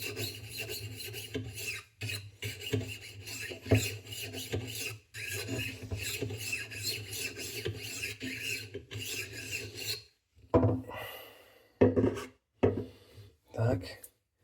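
A knife is sharpened on a HORL 3 Cruise roller sharpener, giving a steady rasping, grinding rub in long continuous passes, then shorter separate strokes with gaps between them.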